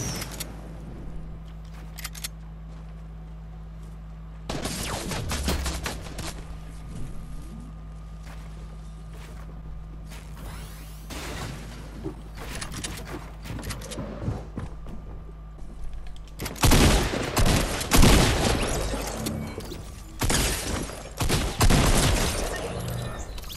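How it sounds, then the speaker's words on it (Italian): Fortnite fireworks burst in rapid crackling volleys, sharp popping explosions clustering in bursts and growing denser and louder toward the end over a steady low game hum. "Fuochi d'artificio, ragazzi, ma seri."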